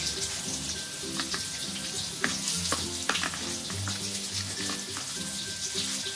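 Flour-coated eggplant frying in hot oil, a steady close sizzle and crackle with occasional stirring clinks and scrapes, no talking.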